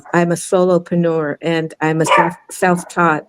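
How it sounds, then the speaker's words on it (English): Dogs bark in a home behind someone talking steadily; the barks are brief and mostly buried under her voice. "Sorry for my dogs."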